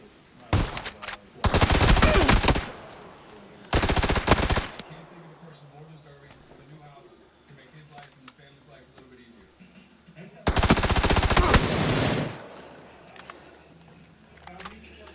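Several loud bursts of automatic gunfire from the PUBG video game, two close together near the start and a longer one later, with quieter stretches and background game sounds in between.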